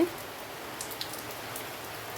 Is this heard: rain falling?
yes